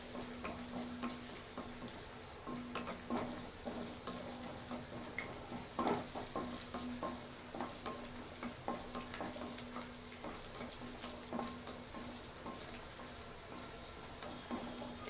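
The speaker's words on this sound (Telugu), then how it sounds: "ఈ అల్లం తరుగు వేసి ఒక్క నిమిషం వేయించండి." Chopped ginger frying in hot oil for a Telugu-style cabbage Manchurian, a faint steady sizzle and crackle with occasional sharper pops and a low steady hum underneath, and no talk.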